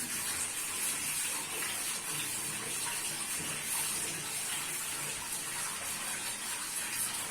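Tap water runs steadily and fairly loudly during washing, a continuous broadband rush with no breaks or voices.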